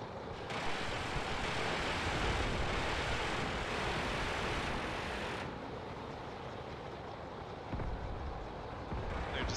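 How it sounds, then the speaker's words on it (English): Helicopters circling over a battlefield strewn with destroyed tanks in Graviteam Tactics, a steady loud roar of rotors and engines that drones on without pause, shifting slightly in tone partway through. "These two helicopters just totally destroyed all of these tanks on the road."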